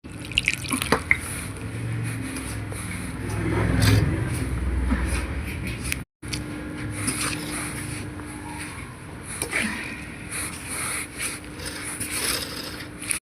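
Room-temperature water is trickled a little at a time into a fenugreek (methi) kachori dough as it is kneaded by hand, making intermittent splashes, drips and wet squelches with a brief break midway.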